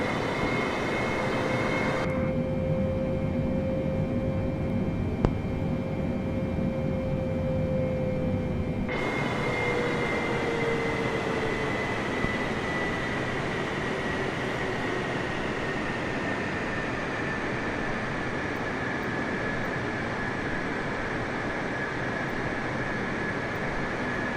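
Steady airplane engine drone from Microsoft Flight Simulator on PC, a continuous hum with a tonal whine that shifts and dips partway through, no voices over it.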